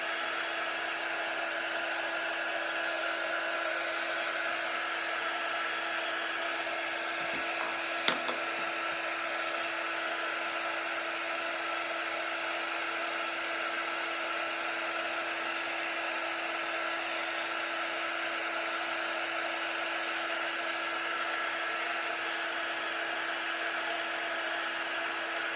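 A hair dryer blows steadily and loudly for the whole stretch, drying a smoothly applied paste; its even whine and airflow hold constant, with one brief click partway through.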